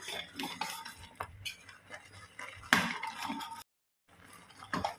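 Thick ragi porridge being stirred with a ladle in a pot on a gas stove, irregular scraping and soft thick sloshing strokes with occasional metal clinks, close up and fairly quiet, with a brief silent gap.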